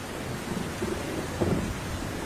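A jungle rainstorm brings a continuous wash of rain with low rumbling thunder, a steady dense patter with no voices.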